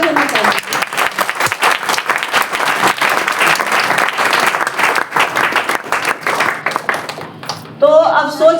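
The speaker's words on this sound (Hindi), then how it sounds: "कैसा ताली होना चाहिए?" An audience at a DXN training session claps in sharp, rhythmic bursts, loud and close, before a voice speaks briefly at the end.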